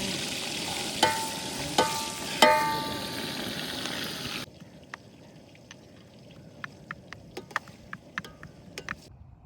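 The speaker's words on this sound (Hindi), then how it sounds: "कढ़ाई में डालते हैं अभी प्याज" Onions frying in cooking oil in a wok at an outdoor iftar cookout on sand, with a dense, loud sizzle and a few sharp stirring clanks for the first half, then quieter scattered ticks and pops.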